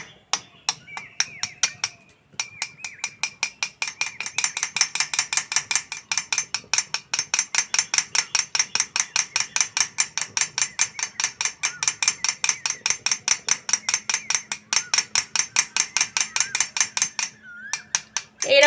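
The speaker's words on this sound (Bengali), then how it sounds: "এবার বন্ধুরা ডিমটা ভালো করে ফেটিয়ে নেব।" Eggs seasoned with salt, turmeric and chili powder are beaten in a bowl for Bengali egg curry, a fast, even run of close metallic clicks and taps that keeps on for many seconds.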